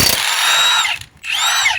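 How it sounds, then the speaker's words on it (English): A battery-operated impact wrench on a high setting spins off a 7/8 lug nut from a Ford E-Series van wheel: two loud, close bursts of rattling, whining hammering separated by a short pause. "Set our impact to a higher setting."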